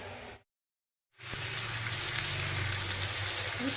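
Chicken fries with spices in a pan, giving a dense, steady sizzle that starts, drops out for a moment, then returns close and constant.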